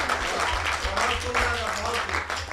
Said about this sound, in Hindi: ये तालियां मेरी कविता पे बजा रहे हो कि सहानुभूति में?